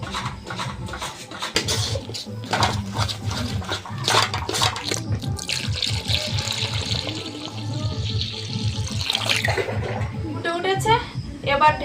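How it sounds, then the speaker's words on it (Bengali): Water is poured into a pot of fully boiled, softened lentils, splashing and gurgling steadily over several seconds alongside clattering, with people talking throughout. "ডাল ভালোভাবে সেদ্ধ হয়ে গিয়েছে আর গলেও কিন্তু গিয়েছে একদম এবার জল ঢেলে দেবো"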